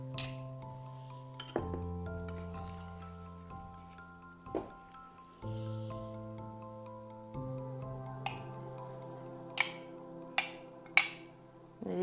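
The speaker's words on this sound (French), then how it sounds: "Voilà, donc je complète mon bocal. Toujours en tassant un petit peu, hein, avec ma cuillère." A metal spoon taps and clinks inside a glass jar as fermenting vegetables are packed down, several sharp isolated knocks spaced over a steady background hum, growing more frequent near the end.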